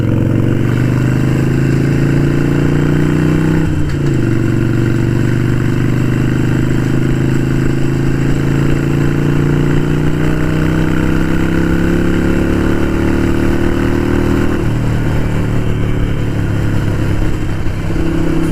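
Harley-Davidson Sportster 883 Iron motorcycle idling close by, a steady loud low rumble with lumpy harmonics that dips slightly in pitch around four seconds and again near fifteen, continuous with no voices.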